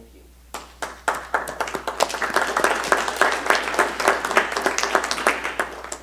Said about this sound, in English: I think you are owed an applause